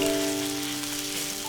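Pork belly mince stir-frying over high heat in a wok gives a brief, steady close-up sizzle and crackle, with faint tonal music in the background.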